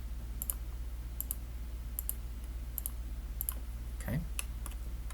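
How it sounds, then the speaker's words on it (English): Mouse clicks while picking grid lines in drafting software, heard as quick close double clicks repeating at a steady pace over a constant low electrical hum, with a brief voice sound near the end. "So now just go through and click all of your grids."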